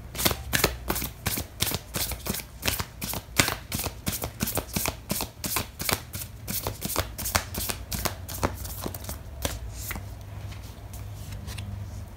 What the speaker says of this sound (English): I am going to pull out an oracle card for you.